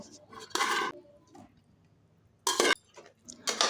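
Fried raw mango pieces stirred into simmering pickle syrup in a cooking pot, a few bursts of scraping and clinking against the pot separated by quiet gaps, close and alone.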